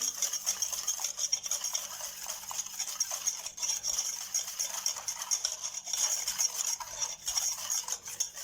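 Milk being stirred into a mixture for a no-bake chocolate layered dessert, a steady soft swishing and light scraping of a spoon against the bowl, close and continuous, with no voices.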